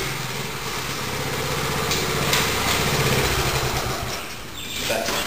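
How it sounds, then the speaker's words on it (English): A small Honda engine revs with its centrifugal clutch disengaged, running loud and close in a steady high-pitched drone that swells slightly and dips briefly near the end, with no talking. "So you should be able to rev it and it won't move."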